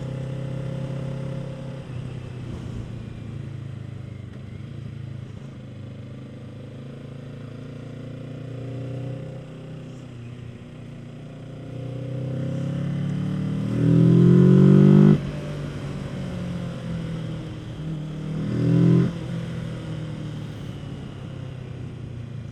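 A Kawasaki Z650 motorcycle engine droning steadily while riding, with wind noise and two short surges of revving acceleration near the end.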